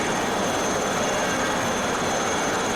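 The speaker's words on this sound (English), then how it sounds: "let's go to the helicopter again" Steady, droning helicopter rotor and engine noise in Microsoft Flight Simulator 2024 in VR over Slovenian castles, continuous and even at constant loudness with no talking.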